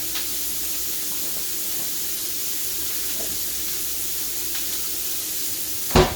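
Onions sautéing in a pan, a steady broad hiss of sizzling heard close and even throughout, with a brief clatter at the very end.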